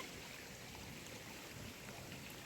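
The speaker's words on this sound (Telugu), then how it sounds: "మంచి వాన వచ్చేసింది" Heavy rain pours down steadily in a village, a dense, even hiss with no pauses, fairly faint and unbroken throughout.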